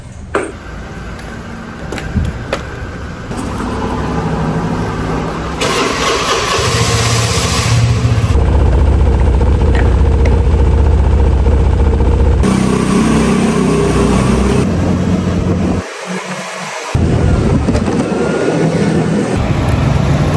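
A ten-year-old Vespa scooter engine starts and settles into a steady, close idle with occasional revs, running continuously for about twenty seconds with no talking.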